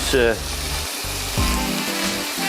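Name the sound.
beef browning in a frying pan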